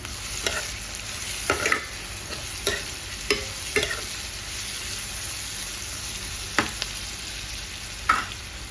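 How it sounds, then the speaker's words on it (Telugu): Sliced onions with salt fry and brown in a pan, a steady close sizzle broken by irregular clicks and scrapes of a utensil stirring against the pan, with no talking. "ఉల్లిపాయలు కొంచెం బ్రౌనిష్గా వస్తాయి కదా, కొంచెం సాల్ట్ యాడ్ చేశాను."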